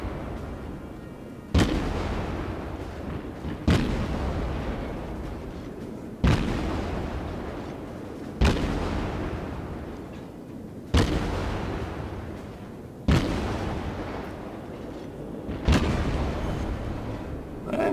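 A Tier-1 Russian cruiser, the Orlan, fires HE shells in World of Warships, seven deep booming salvos spaced roughly two seconds apart, each with a long rumbling tail, loud and without talk.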